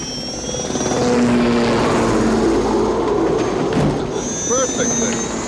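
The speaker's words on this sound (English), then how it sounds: "I can fly a helicopter" A loud, droning helicopter engine roars steadily at close range, with a mechanical rumble and higher whine layered over it.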